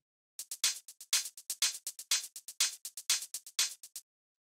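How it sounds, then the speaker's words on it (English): Hi-hats from a melodic house beat, one hat on the upbeats and another running 16th notes: crisp, bright ticks in a steady fast rhythm, quiet and alone. "After that, we have the hi-hats"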